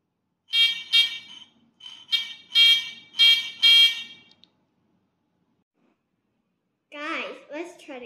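An electric buzzer in a simple circuit sounds in short harsh bursts, a rhythmic series of beeps, then silence before a different warbling tone briefly returns.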